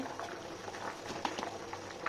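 A pot of basmati rice bubbling at a steady boil, soft gurgles and little pops up close, fairly quiet and with no one talking.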